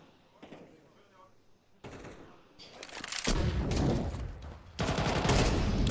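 Heavy bursts of rifle fire tear through a Counter-Strike match, swelling from quiet to a dense, loud volley that continues almost without pause, with a caster's voice partly mixed underneath.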